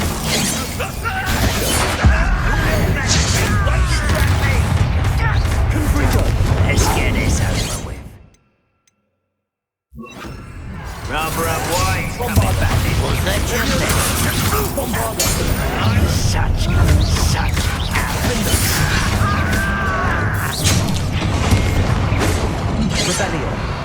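Confringo, the fiery blasting spell in Hogwarts Legacy on PS5, bursts and shatters with booming impacts across a dense, busy fight, pausing briefly midway, with voices speaking over it.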